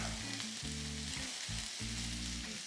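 Shredded carrots, bean sprouts and green onions sizzle loudly on a Ninja Foodi Pro XL grill and griddle while being stir-fried, a continuous close hiss with stirring movements and no talk.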